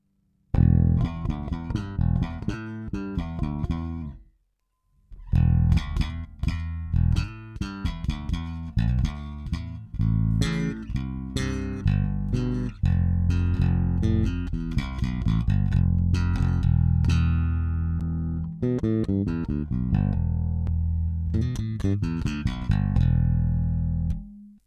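Clean electric bass played through a Two Notes Le Bass preamp with a Torpedo cab, a steady run of loud, full-bodied notes with a brief pause near the start, alone with no talking.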